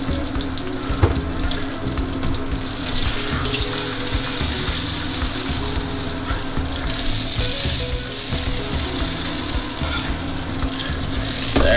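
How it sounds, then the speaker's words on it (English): Hot oil being poured off from a pan while cooking pork ragout over medium heat, with a continuous close sizzle and a watery pouring hiss that swells and eases across the pour. "I'm going to drain off or pour off most of the oil in there."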